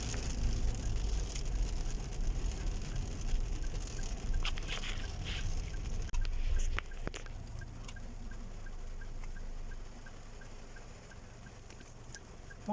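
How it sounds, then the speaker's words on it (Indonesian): Rain falls over a street in Medina as a continuous, fairly soft hiss with scattered drips. A passing car adds a brief swell partway through, then the rain carries on alone, slightly quieter. "Madina hujan."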